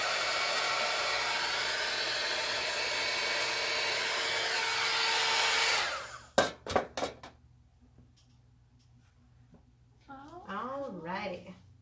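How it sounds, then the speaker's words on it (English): Loud, continuous hair dryer blows close by for about six seconds drying a damp patch of adhesive over chalk, then cuts off, followed by a few sharp handling knocks, quiet, and a person speaking. "So I'm going to go ahead and dry that again real fast."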